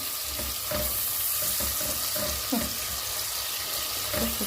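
Dried meat fries in hot oil in a pot with a constant close sizzle and crackle, plus occasional clatters of stirring.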